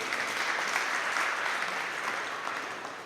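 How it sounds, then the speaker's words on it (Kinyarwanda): Continuous applause from an audience at a Rwandan Liberation Day celebration held in Arizona, a broad steady wash of clapping that holds throughout and eases off slightly at the end, with no talk. "Nimwikomere mu mashyi."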